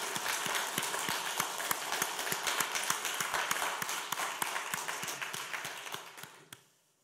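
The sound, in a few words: church congregation's welcoming applause for newcomers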